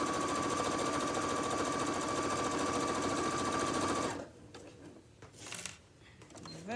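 Sewing machine stitching around the outside edge of an apron, a fast steady mechanical whir with a droning tone running for about four seconds, then stopping abruptly, leaving faint handling noises and a brief clatter.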